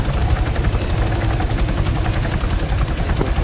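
A helicopter engine in the military video game Arma 3 gives a loud, constant rotor roar and whine that fills the clip, with no talk over it.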